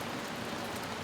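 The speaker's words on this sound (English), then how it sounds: "the back of the chair is just in the rain there, but it's because it's swirling, the wind" Heavy storm rain pours steadily around a camper van awning, a dense continuous hiss of drops drumming on surfaces, close and unbroken throughout.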